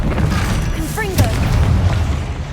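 Confringo fire spell exploding in Hogwarts Legacy, a deep booming blast with a brief burst and crackle over low rumbling game ambience, with a short voice line in the mix.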